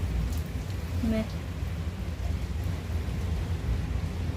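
Heavy downpour during a cloudburst, steady dense hiss of rain with water pooling indoors, constant and moderately loud throughout, a brief word spoken near the start but no distinct thunderclap standing out.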